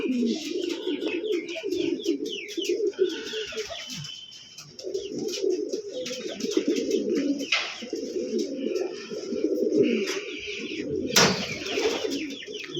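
Pigeons being kept for sale coo steadily in low, rolling calls with scattered chirps, an occasional wing flap and a loud burst near the end, all without talk.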